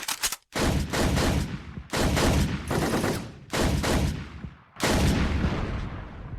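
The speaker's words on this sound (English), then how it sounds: "he's gunned down by a hail of gunfire" In a Crisis Core: Final Fantasy 7 cutscene, sustained bursts of heavy automatic gunfire, several long volleys separated by brief gaps, loud and close with no talking.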